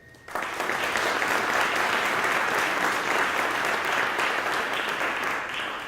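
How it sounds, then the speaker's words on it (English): An audience at a fire department annual recognition and awards meeting applauds firefighters' families, a dense, steady wash of clapping that starts abruptly and holds loud and even throughout, with no talking. "you owe yourself an applause"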